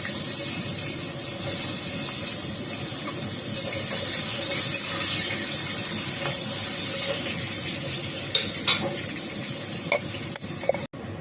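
Potatoes sizzle in hot oil left in a wok after fish was fried, a steady close crackle with occasional sharp utensil clicks and no talking.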